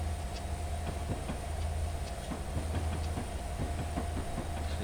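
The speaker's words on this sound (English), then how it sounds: "Here's the other train." A train passes in a rail simulator game, a steady low rumble with rhythmic clickety-clack of wheels over rail joints, moderately near and continuous with no talk.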